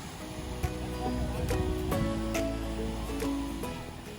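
A steady wash of falling water from a small waterfall at green-tinted Lloyd Lake in Golden Gate Park, a constant rushing hiss with faint scattered clicks and no talking.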